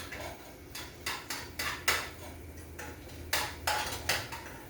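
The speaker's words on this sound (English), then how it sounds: "Sauteing the vegetables." Vegetables are sauteed in a pan for chicken fried rice, heard as a quiet cooking background with a series of sharp, close clinks and taps of a utensil against the pan at an irregular rhythm.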